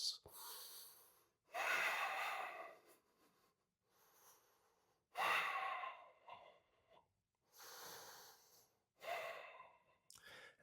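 Slow, deep breathing during a yoga pose on a rainy day: several long, audible inhale-exhale cycles with soft breathy rushes and quiet gaps between them, close to the mic.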